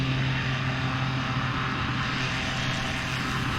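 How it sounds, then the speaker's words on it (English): Steady propeller airplane engine drone in Microsoft Flight Simulator as the aircraft climbs after takeoff, a continuous even hum with strong low harmonics, loud and unbroken, no talking. "As you can see, the plane takes off without a problem."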